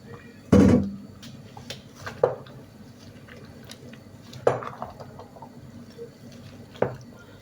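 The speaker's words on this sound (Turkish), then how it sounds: "Patlıcanları parçalamadan altına doğru biberleri bu şekilde karıştırmaya çalışıyoruz." Peppers stirred into cooked eggplants in a pot, a loud scraping clack at the start and then a few sharper spoon-on-pot knocks spaced a couple of seconds apart over a soft background.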